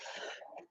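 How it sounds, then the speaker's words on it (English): A single throaty cough, close and fairly loud, with a short second burst at the end, no talking. "There goes my cough again."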